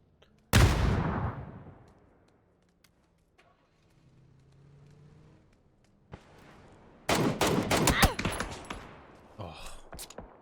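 Mark 14 rifle fire during a PUBG esports match, with a sharp loud shot at the start, then quieter game ambience, then a dense burst of rapid shots and impacts toward the end.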